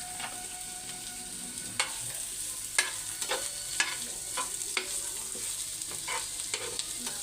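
Ginger and garlic, with onion, tomato and coconut, sauté in a pan for an aloo masala curry paste. They give a constant soft sizzle, with a spoon scraping and clinking at irregular intervals.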